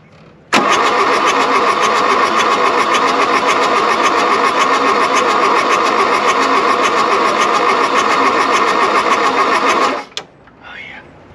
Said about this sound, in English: Let's get a little warmth in it, that engine, and see if it'll pop off really quick.